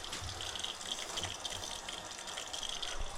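Water gushes steadily into a geothermal pond loop system being filled, a continuous broadband rush with a low pump-like rumble underneath, close and fairly loud throughout without pause.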